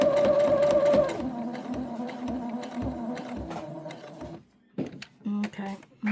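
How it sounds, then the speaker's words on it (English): A sewing machine runs steadily while stitching a monkey diaper cover, loud and close for about four seconds before stopping, then short bursts of stitching follow. "And then you're going to sew down this side."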